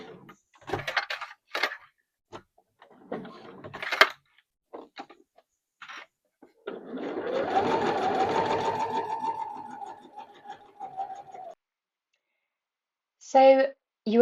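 A sewing machine stitches a seam around a bag in one sustained whirring run of several seconds, bracketed by someone speaking before and after.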